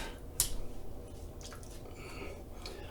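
A synthetic shaving brush being rinsed, soft wet squishing and dripping close by, with a brief sharp splash near the start, no talking.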